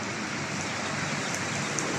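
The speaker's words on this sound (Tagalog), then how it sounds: "Ayan na, lumalakas na yung ulan." Heavy rain pours down outdoors in the UAE, a dense, steady hiss that fills the scene without pause, with no voices over it.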